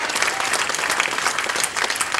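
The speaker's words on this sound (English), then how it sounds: "Give yourselves a round of applause" A crowd at a speedway reunion event at Greyhound Park, Angle Vale, gives loud, close, dense applause in a brief steady burst.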